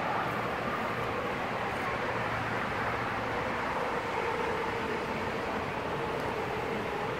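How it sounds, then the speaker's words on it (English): Steady, dense roar of nearby freeway traffic, a constant broadband rush with no pauses, fairly loud throughout. "I apologize for the noise. We are right next to the freeway"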